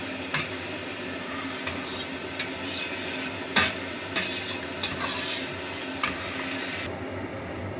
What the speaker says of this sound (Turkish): Çorba kaynıyor arkadaşlar